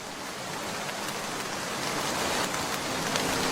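Heavy cartoon storm rain pours down in a dense, steady hiss that swells slightly louder, filling the scene with no voices.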